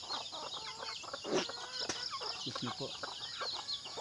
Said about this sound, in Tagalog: Mga black astrol po yung yung sisiw na itim